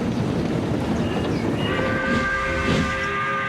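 A heavy train races down the line behind a single tank engine, with a continuous loud rolling rumble; a shrill, whistle-like tone rises over it in the second half.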